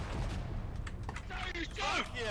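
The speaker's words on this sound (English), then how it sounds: "Who shot that cannon?" Cannon and musket fire rumble through a Civil War battle video game, with one sharp boom followed by scattered crackling shots and some whistling effects, while people talk over the game sound.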